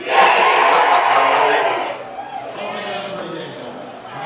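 A crowd cheering at a concert, a loud roaring wave of voices that swells briefly and then fades into scattered shouts and chatter.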